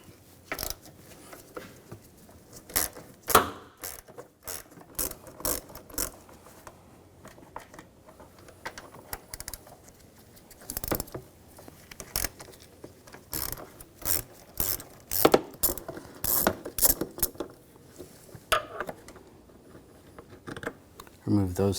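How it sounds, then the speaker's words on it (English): Ratchet with a 10 mm socket backing out bolts during starter replacement on a 2007-2013 BMW X5 3.0L inline-six, giving many rapid, close clicking ratchet strokes in irregular bursts, with someone talking at times. "Now we're going to take these two bolts out,"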